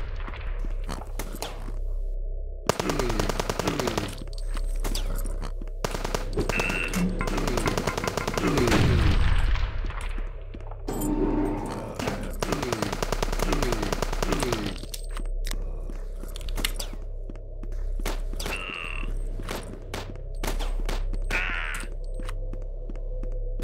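Rapid gunfire bursts and single shotgun-like blasts from the video game HROT, loud and close, firing in clusters across the stretch with crunchy impact sounds between volleys.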